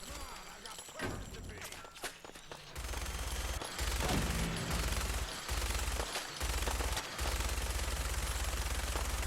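Bursts of automatic gunfire in Fallout 4 ring out in rapid strings, loud and close, broken by short pauses between volleys, with a player's voice faintly present.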